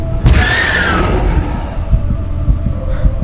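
A horse's whinny rises in a high, bright cry during a Doctor Who episode. Deep, throbbing rumbles sit under it and go on, softer, after the call fades.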